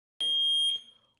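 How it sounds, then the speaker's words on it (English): A Foscam E1 security camera base station sounds its alarm siren, a loud piercing electronic tone that holds steady for about half a second, breaks briefly, then sounds again and fades. "So the base is the one that sets off that siren."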